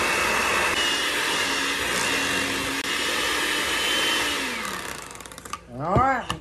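An electric hand mixer whirs steadily as it beats two sticks of butter for cream cheese frosting, then winds down and stops, followed by a brief rising and falling whine near the end.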